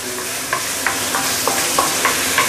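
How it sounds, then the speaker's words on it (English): Rempah spice paste sautéing in a pan for Indonesian nasi goreng, a steady close sizzle broken by regular scraping stirs roughly every half second, with no talk. "this is after a minute or two sauteing my rempah"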